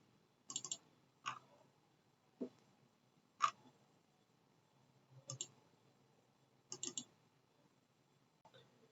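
Mouse clicks while working in an Excel spreadsheet, six or seven sharp, fairly faint clicks spaced irregularly, some doubled, over a quiet background with no talking.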